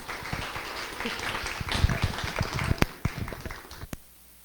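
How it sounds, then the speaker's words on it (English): Audience applause for speakers at a workplace diversity and inclusion panel event: a dense burst of many hands clapping that swells, peaks and then tapers off into a few scattered claps before going quiet. "Can we have one more round of applause for our speakers?"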